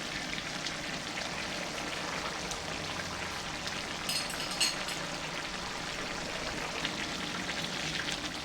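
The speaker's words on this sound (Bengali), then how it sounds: "গরম মশলা দিয়ে আবার একটু নেড়ে দিচ্ছি।" Butt karahi meat sizzles in a pan as garam masala is stirred through, a soft, continuous crackle and hiss with occasional scraping clicks, quiet and without speech.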